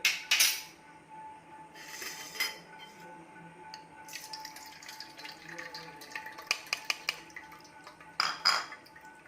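Soaked sabja basil seeds being strained in a kitchen, with intermittent clinks and taps of a strainer and utensils against a bowl, light splashes of water, and faint background hum between the louder clatters.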